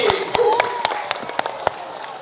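Children's applause at a magic show: a short burst of scattered, uneven claps, loud at first and thinning out over about two seconds.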